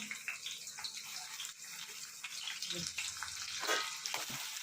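Garlic, green chili and ginger fry in oil in a pan, a soft, quiet sizzle with occasional stirring clicks and scrapes, heard close with no speech.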